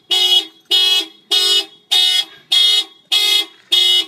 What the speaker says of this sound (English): We're going to go ahead and fire off the alarm.